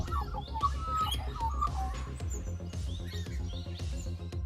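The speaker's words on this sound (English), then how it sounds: "such as beak clapping, whooshing above your head," Magpie calls, a string of sharp chirps and shrill squawks close by, with faint overlapping bird chatter, over a steady low drone and a rhythmic thumping backing.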